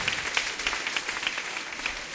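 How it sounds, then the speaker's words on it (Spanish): An audience at a church gathering applauds, with a dense steady patter of many hands clapping in a reverberant room for the whole stretch. "Eso, aplaudan."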